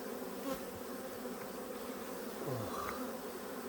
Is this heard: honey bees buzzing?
yes